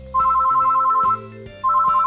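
An electronic phone ringtone in Minecraft plays a steady two-tone trill in two bursts with a pause between, clear and close over a soft synth background.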